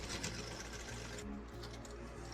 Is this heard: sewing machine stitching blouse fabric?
yes